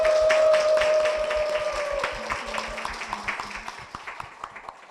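Applause at a church testimony event welcomes a husband and son onto the stage, with crisp rhythmic clapping from a modest audience that starts steady and gradually thins and fades over several seconds.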